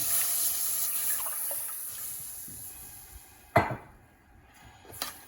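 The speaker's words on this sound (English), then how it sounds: "I'm gonna add the milk in there, okay?" Milk pours into a pan on the stove over low heat in a steady watery stream, followed by a sharp utensil clink and a quieter clatter near the end.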